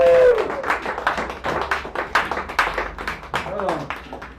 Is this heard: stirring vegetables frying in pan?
no